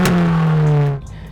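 An Abarth 124 Spider with a factory Monza Record exhaust and baffle delete gives one short, loud rev with a raspy, droning exhaust note that holds briefly, then drops off abruptly.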